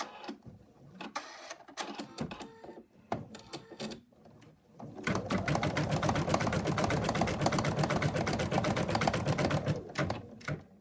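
A sewing machine stitches the arm of a stuffed cat toy in a steady, close, rapid mechanical whir after a few scattered clicks and short bursts at the start.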